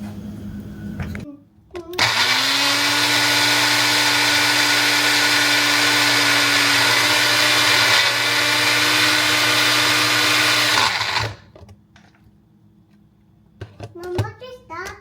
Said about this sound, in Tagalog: Nilagay ko lang siya sa parang Nutri-blender ko. Tapos, i-blend natin siya para ihalo sa sabaw.